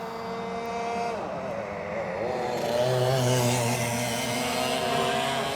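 Racing karts in a Club100 clubman sprint heat at Llandow pass on track, engines buzzing steadily with rising and falling pitch as several karts come through close together, the drone loud and continuous.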